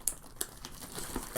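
Plastic shrink wrap on a Star Wars X-Wing Scum and Villainy box crinkles in quick, close bursts with a few sharper crackles, no voices.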